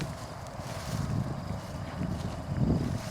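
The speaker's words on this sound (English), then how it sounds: "Hopefully the wind isn't going to mess up my video here." Gusty outdoor wind buffets the microphone beside a 2009 Silverado 2500HD Z71 extended cab pickup, a low rumbling roar that swells and eases in waves.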